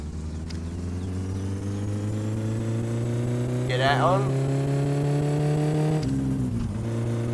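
A car engine in My Summer Car revs steadily upward from a low drone toward a higher pitch, then drops back sharply. Someone speaks briefly over the engine.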